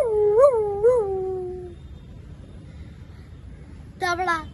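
A storyteller at a storytelling event imitates a dog crying pitifully, with two rising and falling howling whimpers, a pause, then a shorter wavering yelp-like cry, all close and loud.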